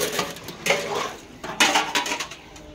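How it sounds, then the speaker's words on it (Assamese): A potato peeler scraping scales off fish, a steady series of rough, close scraping strokes with clinks of metal on a dish in between, irregular in rhythm and moderately loud. "মাছৰ বাকলি গুচাবলৈ আলু গুচোৱা মেচিনে বহুত ভাল এটা আনি লৈছোঁ এইকেইটা এতিয়া গুচাম"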